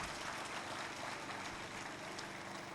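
An audience claps in a steady, dense burst of applause, heard at a moderate distance without talk.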